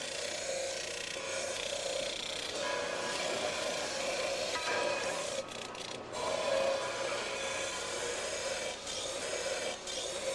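Steady, continuous rasping grind of something being worked at an angle, close and fairly loud, holding an even texture with slight surges throughout and no talking.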